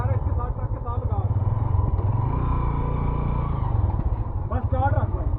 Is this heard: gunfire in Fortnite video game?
no